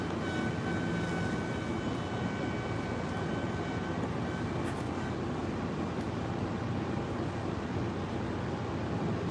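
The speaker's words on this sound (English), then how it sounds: "And now there's a train, yes, sir. MARC train 875" MARC passenger train 875 rumbles past Harpers Ferry, West Virginia, in a steady, broad roar of wheels and coaches that holds constant and fairly distant throughout, with no talking.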